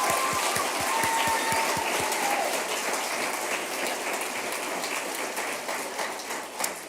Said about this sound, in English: So I want to give a huge round of applause and thanks for all those people.